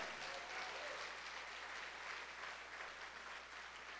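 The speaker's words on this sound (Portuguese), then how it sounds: "levante as suas duas mãos e aplauda ao Senhor" A church congregation applauds together, a faint and distant continuous patter of many hands that stays even and unbroken from start to finish.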